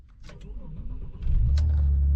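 An old car, about 22 years old, cranking briefly and then catching as its engine starts, settling into a steady, loud low idle up close.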